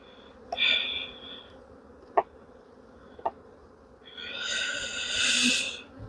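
Bees around an apiary brood box, their buzzing swelling in two bursts, one brief near the start and a louder sustained drone toward the end, with a couple of sharp knocks between.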